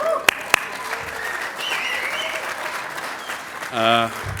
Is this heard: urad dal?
no